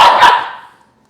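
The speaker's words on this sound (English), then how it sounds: "Oh, don't growl at me." A dog gives one loud, close bark that starts sharply and then fades out over about half a second, leaving silence. No growl is evident.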